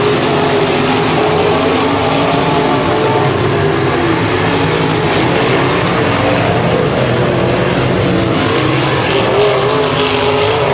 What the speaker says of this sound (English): Enos to the inside, Bircher sideways. Off the track, the 19 car.